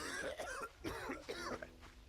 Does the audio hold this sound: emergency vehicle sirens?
no